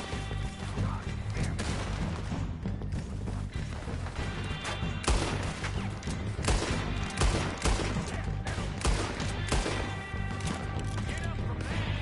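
Dense, loud gunfire rattles through a Red Dead Redemption 2 firefight. Overlapping shots and heavy booming impacts keep coming without a break across the whole stretch.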